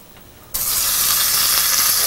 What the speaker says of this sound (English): I'm going to get that sizzle.